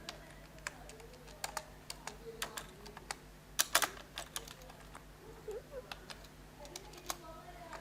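Quick, irregular keystrokes on a computer keyboard while writing a few placeholder words for a CSS heading, with soft clicks near the microphone and a few denser bursts.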